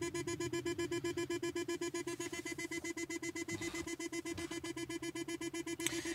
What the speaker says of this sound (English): and there's the beeping sound.